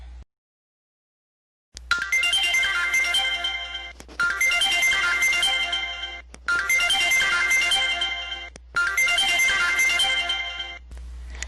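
A telephone rings in four loud, repeated bursts, each lasting about two seconds with brief gaps between, after a short stretch of silence at the start.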